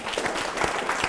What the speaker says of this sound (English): Let's clap for Joe